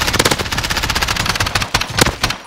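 Rapid automatic gunfire in a Call of Duty Search and Destroy match, loud and close, a fast unbroken rattle of shots followed by a few heavier separate bursts near the end.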